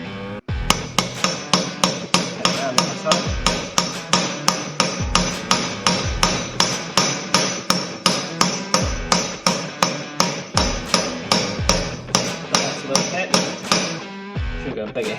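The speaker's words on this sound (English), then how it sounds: "Should go a bigger hammer." Repeated loud metallic hammer blows drive a wheel bearing into a Thumpstar TSN 300 in a steady, fast rhythm, close by, continuing for the whole stretch with brief pauses between bursts.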